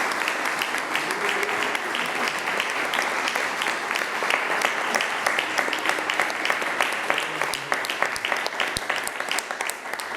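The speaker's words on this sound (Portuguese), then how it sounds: "Vamos aplaudir a Jesus" A church congregation claps together at an evening Portuguese-language evangelical service, steady dense applause sustained throughout at full volume with no talking over it.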